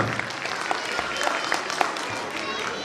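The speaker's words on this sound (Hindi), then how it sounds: "जोरदार तालियां इन सभी मदर्स के लिए" Applause from parents and guests at a school annual function for the mothers, a continuous crowd clatter with occasional sharper claps, heard alongside an announcer speaking.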